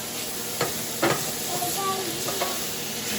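Turkey sausage fries in a pan with a steady, close sizzle, broken by a few soft scraping stirs and clicks of a utensil against the pan.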